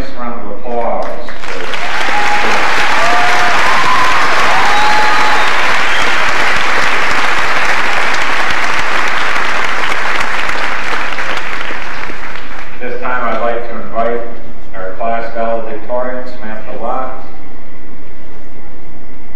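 Loud, dense clapping from a high school graduation crowd in South Berwick, Maine, in 1998 rolls on for about ten seconds after a brief spoken line, then dies away as someone talks over the last scattered claps.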